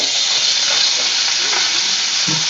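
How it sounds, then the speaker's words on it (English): Loud, constant close sizzling and hissing as chunks of beef are seared in a hot pan for a crock-pot stew, with a faint knock near the end. "You're just going to sear it, make it brown on all sides."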